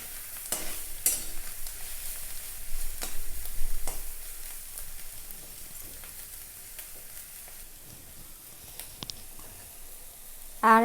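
Shredded cabbage frying with egg in a pan for a home-cooked Bangladeshi meal, a soft, low sizzle with intermittent scraping stirs, fairly quiet and close, ending in a brief louder clatter.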